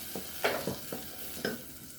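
Tomato juice poured into a pan of frying onions for a chicken dish with caramelized onions, giving a steady sizzle broken by several sharp hissing bursts as it is stirred, close and alone.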